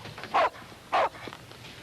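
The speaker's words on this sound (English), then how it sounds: "You dog. Get down, Ruff." A pet dog gives two short, close barks about half a second apart over quiet indoor room noise.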